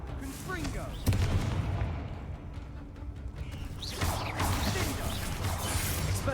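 Confringo fire spells blast during combat in Hogwarts Legacy, with booming bursts and crackling impacts over a dense din of game effects and a speaking voice.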